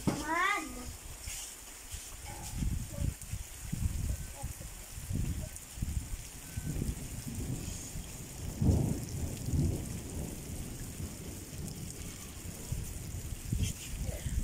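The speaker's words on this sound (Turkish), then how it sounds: "Yağmurda yağdı mı nasıl güzelleşiyor bahçe bacılarım." Thunder rumbles in several low rolling bursts while rain patters steadily over a vegetable garden, moderately loud and continuous.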